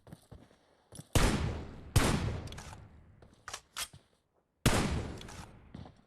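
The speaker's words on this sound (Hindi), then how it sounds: "स्पॉट करते हुए आफाक मलिक को शॉट्स लिए, लेकिन डैमेज नहीं दे रहे।" Gunfire in the mobile shooter BGMI during a tournament match: several loud, booming shots with long echoing tails, plus a few sharper single shots between quieter gaps.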